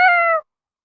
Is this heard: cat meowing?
yes